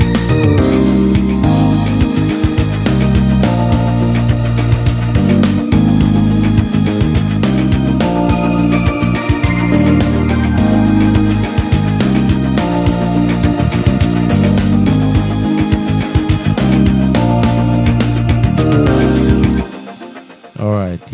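A gospel-style worship beat, its first verse playing loud and full with steady drums, bass and sustained keys and pads for about twenty seconds before dropping away abruptly near the end.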